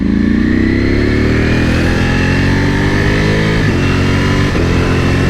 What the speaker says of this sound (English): Look at this, changing up gears. The quick shifter's brilliant though.